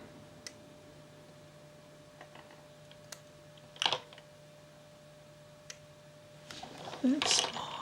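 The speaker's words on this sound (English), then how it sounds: "I'm hearing a noise, sort of like a relay clicking on." A Marshall JTM-45 amplifier makes faint, sparse relay-like clicks at irregular intervals over a steady mains hum, and a few louder clattering bursts come near the end.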